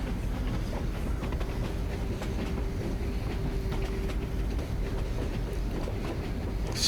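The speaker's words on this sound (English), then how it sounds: "Take the train to the station." Train ride in the video game Steel Ark: a steady, continuous rumble of rolling rail cars with faint rhythmic clacking and a low mechanical hum, holding evenly throughout with no talking.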